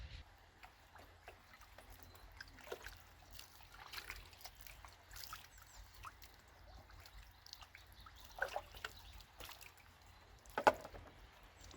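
Disc golf discs being rinsed by hand in cold lake water give faint, intermittent trickling and light splashing, with a few slightly louder sloshes near the end. No voices.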